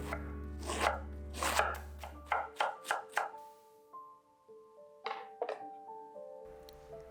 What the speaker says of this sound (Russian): нам нужно просто мелко нарезать, тоненько нашинковать капусту